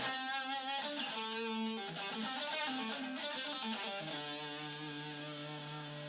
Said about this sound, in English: I can get this distortion at like the tiniest little volume.